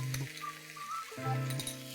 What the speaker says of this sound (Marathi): आता ह्या भाज्या आपण ह्या सॉसेसमध्ये व्यवस्थित परतून घेऊया।